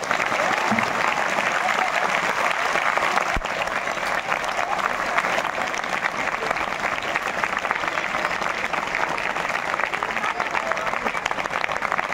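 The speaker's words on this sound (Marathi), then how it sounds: "एकदा आई वडिलांसाठी कडाडून टाळ्या वाजवतो तुमच्या" An audience at a public talk gives parents a loud, sustained round of applause, dense clapping that holds steady throughout without pause.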